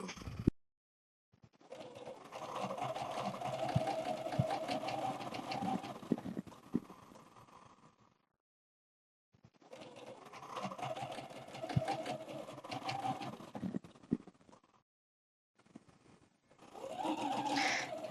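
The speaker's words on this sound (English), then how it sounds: "So I want to sew some of these together for you." A sewing machine stitching quilt fabric pieces together runs in two long bursts of rapid, even mechanical whirring with a short start at the opening and another at the end, separated by silent pauses, close and clear without talk.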